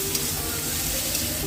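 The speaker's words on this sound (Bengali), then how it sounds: "মশলাটাকে ভালো করে কষিয়ে নেব।" Garlic and spice masala frying in a pan, a dense continuous sizzle and crackle with soft stirring scrapes, close and alone.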